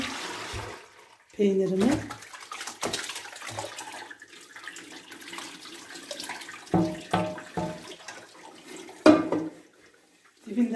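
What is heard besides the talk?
pouring boiled cheese curds and whey through a strainer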